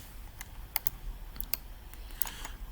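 Typing on a computer keyboard while entering accounting figures, a short burst of sharp, irregular key clicks up close with no voices.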